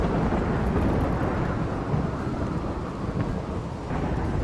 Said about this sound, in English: Oh, that is a loud thunderstorm.